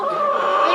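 A hen clucking up close in a chicken coop on a windy day, a short, loud, continuous nasal cluck with no talk over it.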